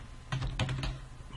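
Keys clatter on a computer keyboard as a command is typed into a Linux terminal, a short run of quick, light taps in an uneven rhythm, close and fairly quiet.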